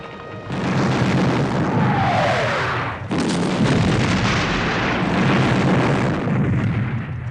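Cannon and artillery bombardment during a Napoleonic-era battle at Waterloo, a dense continuous roar of booms and blasts rolling on for several seconds after a brief quieter start, loud and layered with no speech.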